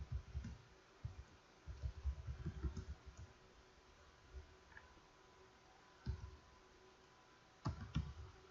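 Computer keyboard typing comes in scattered bursts of quick soft clicks separated by pauses, faint and close, with no voices.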